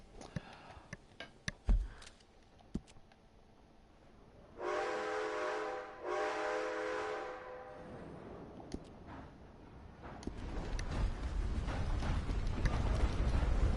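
A steam train whistle in Red Dead Online sounds in two long blasts after scattered clatter, then rumbling rail noise builds as the train rolls on.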